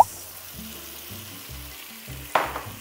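Shrimp seasoned with patis hit a hot frying pan for fried rice and sizzle steadily, with a sharper clatter and hiss partway through as more goes into the pan.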